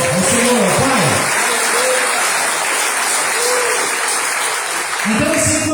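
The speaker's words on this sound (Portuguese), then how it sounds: "Dá um aplauso a Deus agora, ao Senhor, Pai." A church congregation applauds during a worship service: dense, sustained clapping fills the whole stretch, with a voice speaking at the start and again near the end.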